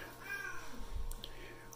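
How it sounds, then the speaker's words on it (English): A faint cat meow sounds in the Hamster Ball video game, low in level over a steady game background. "I hear a cat."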